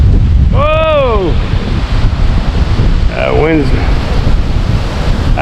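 Strong wind roars constantly across the microphone at a late-November campsite in north central Iowa, a loud broadband rush with a brief voice-like cry breaking through partway.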